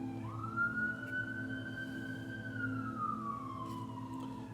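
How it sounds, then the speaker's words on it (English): A single emergency siren wails steadily at a distance, rising and slowly falling, over a low rumble of traffic. "Sirens in the background to get you guys' attention."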